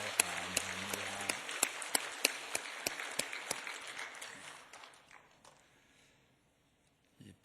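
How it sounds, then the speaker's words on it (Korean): A church congregation gives encouraging applause, starting as a warm round of clapping with a few sharp distinct claps, then thinning and fading to near silence by the end. "참으로 마음에서 우러나오는 뜨거운 박수로 한 번 더 격려하겠습니다"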